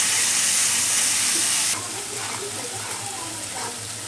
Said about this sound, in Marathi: कांदा चांगला गुलाबी कलर झाला, गुलाबी कलर होईपर्यंत तळायचा.